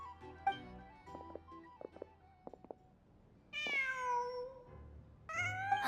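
A cat meows in the Genshin Impact game, with two clear, drawn-out meows standing out near the end over soft background game ambience and scattered small clicks.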